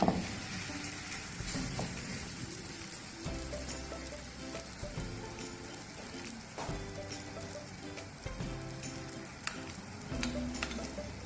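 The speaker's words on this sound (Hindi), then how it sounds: "पराठा हमने बेल लिया, अब इसको तलेंगे।" A rolled paratha frying on a lightly greased tawa, with desi ghee added as it cooks, gives a steady close sizzle broken by occasional scrapes and stirring knocks, with no voices.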